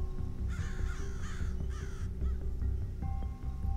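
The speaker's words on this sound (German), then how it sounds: "Und warum will sie die Krähen wegscheuchen?" Crows cawing in the video game Family Mysteries: Poisonous Promises, several harsh caws in loose succession over a steady low background hum and faint game tones, fairly loud.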